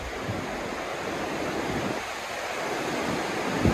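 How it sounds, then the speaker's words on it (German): Sea waves break against the rocky shore at Santa Ponsa bay in Mallorca, a loud, continuous roar of surf with rising surges and wind buffeting the microphone, no voices heard. "Die Wellen schlagen dagegen und nehmen den Druck ein wenig von Santa Ponsa"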